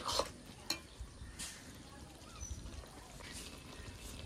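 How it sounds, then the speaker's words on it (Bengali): Rice flour is stirred into khero ghonto made with fish head in a pan, giving a soft, quiet scraping and shuffling with a few light clinks against the pan and no speech. "চালের গুঁড়িটা দিয়ে ভালো করে নেড়ে চেড়ে নেব।"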